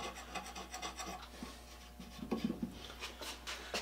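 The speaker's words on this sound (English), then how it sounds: "Shear off any splinters that might be on there causing a problem." Splinters are shaved off a wooden saw-till board with a short series of close, dry scraping and rasping strokes, quiet and alone.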